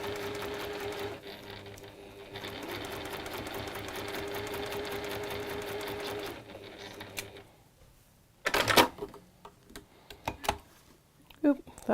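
A sewing machine fitted with a zipper foot stitches along zip tape and fabric, running steadily and close for about six seconds before stopping, followed by scattered clicks and handling knocks.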